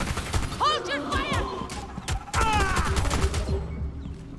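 Gunfire in the Rainbow Six Extraction video game crackles in rapid bursts of shots amid chaotic combat noise, with sharp synthetic chirps and a voice speaking partway through.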